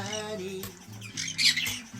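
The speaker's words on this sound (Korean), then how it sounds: "정성인의 앵무새들 정성이는 짹짹짹" A pet conure parrot gives harsh, shrill squawks near bath time, with a brief loud burst in the middle of a short close-up moment and no voices.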